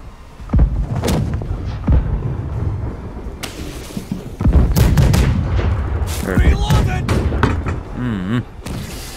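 Cannon fire from a sailing ship in the video game Blackwake, aimed at an enemy galleon: several heavy booms and thuds scattered across the stretch, mixed with battle noise and voices talking over it.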